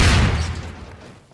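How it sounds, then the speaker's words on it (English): A gas station exploding in Garry's Mod: one loud, close boom that decays into a fading rumble. "can I actually explode the gas station?"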